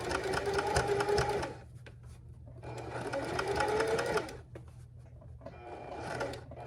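A sewing machine stitches a circle in fabric, its motor whirring close in several runs separated by short pauses as the fabric is turned between bursts.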